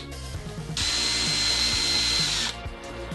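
A DeWalt sheet metal shear attachment driven by a hammer drill cuts through sheet metal, a loud high whining buzz that starts abruptly and holds for under two seconds, with a quieter motor hum before and after.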